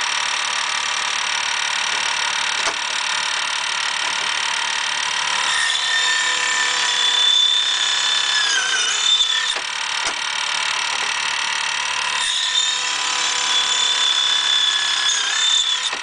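A shop-built fret cutting machine with a waxed blade saws fret slots, giving a steady, loud, continuous whining cut with pitch shifts as the blade bites, running alone throughout without talk.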